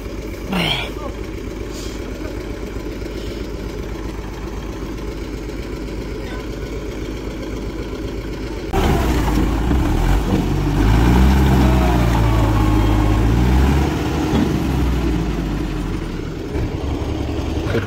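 A tractor engine runs steadily on a farm during sowing work, a continuous rumble that grows louder and rougher about halfway through, with people talking over it.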